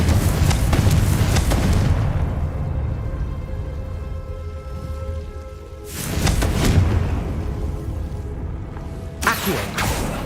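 A Confringo fire spell explodes in the Hogwarts Legacy video game: a loud booming blast opens the clip and decays into a rumbling tail, followed by two more bursts near the middle and end.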